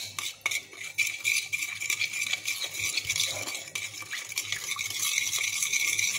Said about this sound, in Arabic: غادي نخلطو لاصوص وغادي ندهنو الدجاجة